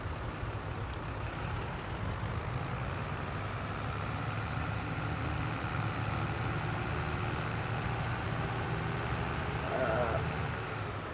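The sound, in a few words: vehicle engine running in Farming Simulator 22 video game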